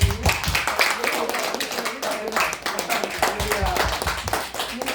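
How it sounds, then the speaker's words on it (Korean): Applause from a crowd, a dense patter of many hands clapping continuously throughout, fairly loud and close, with some voices mixed in. "박수를 한 번 크게 한번"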